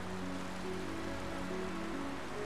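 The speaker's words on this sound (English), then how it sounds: "Rain fucking with my capture." Steady rain hisses in a dense, unbroken wash throughout, over faint sustained background tones, in Final Fantasy XII The Zodiac Age.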